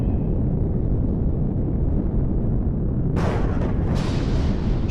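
Low, steady rumbling in the sci-fi survival game Empyrion, Alpha 10, is broken by a couple of sharp, bright bursts of incoming fire near the end.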